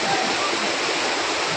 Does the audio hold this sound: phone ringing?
no